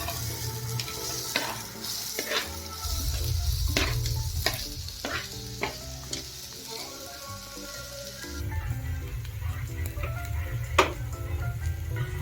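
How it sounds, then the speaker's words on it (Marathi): Long-sliced onions fry in a pan for spicy mutton rassa, crackling steadily while a spatula scrapes and taps the pan in irregular strokes, close and fairly loud. "लांबसर असं कांदा कापून घेतलेला आहे ती भाजून घ्यायचं आहे"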